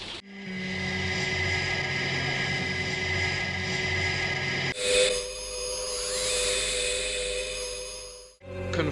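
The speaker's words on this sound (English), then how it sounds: "Commander Straker, there's an aircraft entering the target area" An aircraft flies over as a television sound effect, a steady droning engine roar that shifts abruptly into a higher, whining pass before cutting off near the end.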